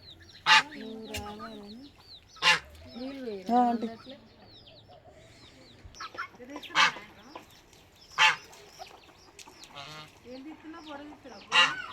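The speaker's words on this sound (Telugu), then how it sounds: "మరి గీ బాతులు గిట్ట మొత్తుకుంటున్నాయి ఏమైంది" Loud, repeated quacking and honking from ducks, several bursts spaced across the stretch, nearby, with a few faint voices in the background.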